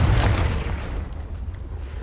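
A Confringo blasting spell detonates in the Hogwarts Legacy video game, a loud booming blast with a rumbling low-end tail that slowly fades, with no talking over it.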